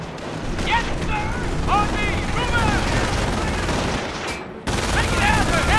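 Dense gunfire in the World War II strategy game Company of Heroes: Tales of Valor, rapid machine-gun bursts and rifle shots crackling loudly throughout, with shouted soldier voices mixed in and a brief drop near the end.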